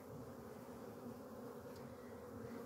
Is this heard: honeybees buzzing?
yes